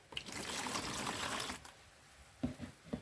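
Water is poured into a container while making homemade Handy Andy cleaner, 792.1 ml measured out: a steady trickling stream for about one and a half seconds, followed by a few faint clunks and drips.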